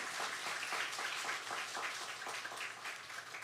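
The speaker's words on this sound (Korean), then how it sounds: "이렇게 마음 없는 박수가 나올 수 있습니까?" Scattered, half-hearted applause from a church congregation after a baptism service, a soft steady patter of clapping that stays even and subdued for a few seconds with no voices.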